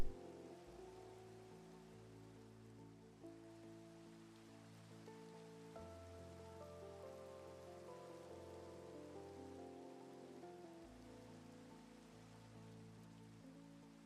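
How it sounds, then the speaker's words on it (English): Minecraft rain patters steadily as a soft, even wash throughout, mixed with sustained chords of calm game music. "Oh, and it's raining again."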